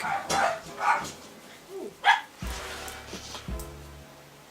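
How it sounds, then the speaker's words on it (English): A dog barks a few times in sharp, irregular bursts at moderate distance, with a low steady hum in the background between barks. "Dog's barking."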